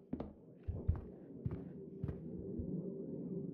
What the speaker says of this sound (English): I still hear like a heartbeat or something